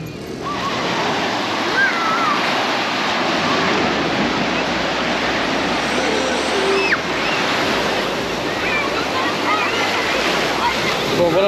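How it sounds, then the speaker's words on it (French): Surf rolls in steadily at Rafraf beach in Tunisia, a loud continuous wash of breaking waves with wind buffeting the microphone and faint voices in the background. "on est venu à la plage Rafraf qui est là"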